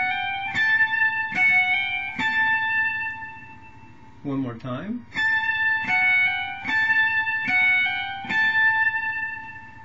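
Electric guitar picks out a phrase of Pachelbel's Canon in D, clear sustained notes with bright harmonics, plucked one after another in a steady lyrical rhythm, interrupted briefly midway by a short spoken remark before the melody resumes.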